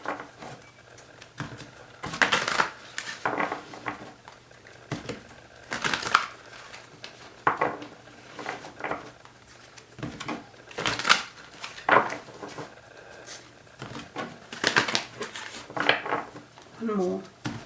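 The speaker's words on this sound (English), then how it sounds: "I will focus on you now, Aries, while I shuffle these" Two tarot decks are shuffled by hand, giving repeated bursts of riffling and card slaps in an irregular rhythm, close and moderately loud, with a voice speaking intermittently between them.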